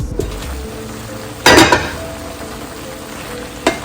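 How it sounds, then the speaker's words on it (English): Stew chicken with cabbage being stirred in a pot: a quiet sizzle, then one sharp burst of scraping and clattering around one and a half seconds, and a brief clink near the end. "let's stir it up and we'll get the rest of the cabbage down into it. Mix it up."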